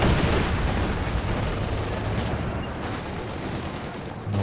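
Artillery counter-barrage fire in Company of Heroes 2 as a dense, continuous rumble of distant shelling and gunfire that stays loud and steady throughout, with no clear separate blasts.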